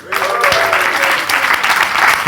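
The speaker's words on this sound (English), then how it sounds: "Everyone, give Charles a round of applause." An audience at a social media Q&A session gives a round of applause for an attendee named Charles, a loud, dense and sustained wash of clapping from many people close by.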